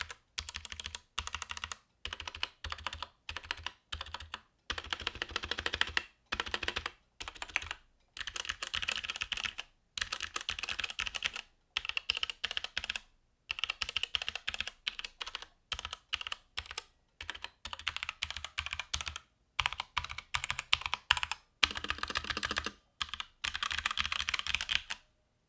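Steady, rapid typing on a Keychron mechanical keyboard fitted with ABS keycaps gives close, crisp clacks with brief pauses between bursts, and no voices are heard.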